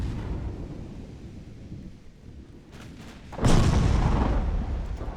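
Warship guns fire in the naval game Ultimate Admiral Dreadnoughts, a single heavy boom bursting in after quiet ocean ambience and rolling on loudly for a couple of seconds.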